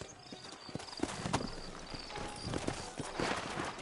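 Horse hooves clip-clop in a steady walking rhythm on hard ground in the video game Red Dead Redemption, close and moderately loud, with no voices.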